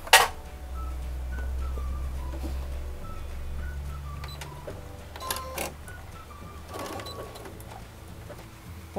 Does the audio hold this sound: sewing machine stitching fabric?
yes